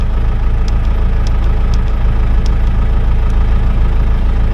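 An older bulldozer's diesel engine idles slightly slow, a steady low rumble running unbroken and loud throughout, with faint periodic ticks riding over the drone.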